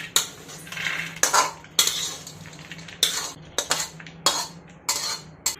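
Roasted coconut is scraped and scooped from a pan with a metal spoon after the gas is switched off, giving repeated sharp metallic scrapes and clinks in irregular bursts, close and clear.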